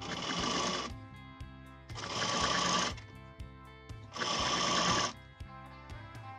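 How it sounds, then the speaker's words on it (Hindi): An electric sewing machine stitches piping onto fabric along a chalk mark, running in three loud bursts of steady whirring about a second each, separated by short pauses with quieter mechanical clicks. "इस चॉक मार्क के ऊपर ऐसे रख करके ये पाइपिंग की स्टिचिंग कर देंगे"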